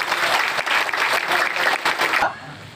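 A crowd at a charity event applauds loudly in a dense burst of clapping that cuts off abruptly near the end, leaving a quiet room.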